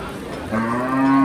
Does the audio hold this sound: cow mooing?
yes